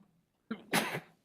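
A single quiet sneeze, a short sharp intake followed by a burst of breathy noise, in an otherwise hushed township board meeting room.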